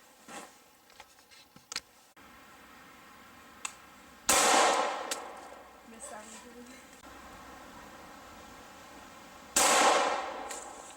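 A Taurus PT740 Slim pistol fires two sharp, loud shots several seconds apart outdoors, each with a short ringing decay. Quieter handling clicks and clacks come before them.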